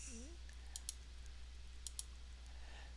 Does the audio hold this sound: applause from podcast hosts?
no